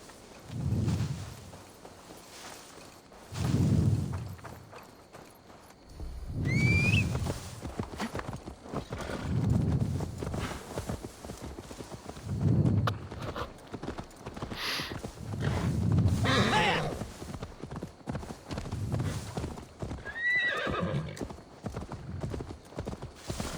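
A horse's hooves clip-clop in the video game Assassin's Creed Valhalla, with regular rhythmic hoofbeats pulsing close by, a brief neigh and light background game sounds in between.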